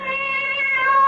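In a radio drama, a cat lets out a single drawn-out meow that rises slightly in pitch. It is clear and close, and no voices are heard.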